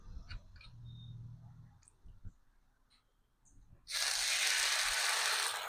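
A stove burner knob is turned down in a home kitchen with a few faint ratcheting clicks, then a loud, steady rushing hiss takes over for the last couple of seconds.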